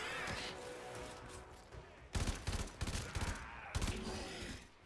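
Rapid bursts of gunfire in the sci-fi shooter video game Warframe, loud and dense with repeated volleys and sharp crackling shots, a sustained barrage in the first half giving way to punchy clustered firing later on.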